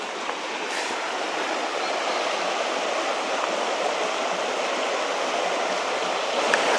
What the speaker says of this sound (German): Ich höre nämlich Wasser.